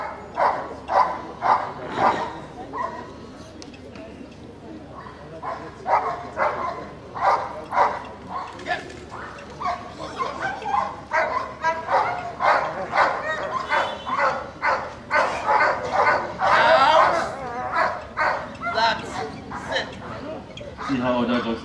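Police K9 dogs at a state police command kennel center bark in repeated loud bursts, several dogs overlapping, with someone talking over and between the barks.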